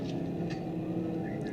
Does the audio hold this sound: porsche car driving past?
yes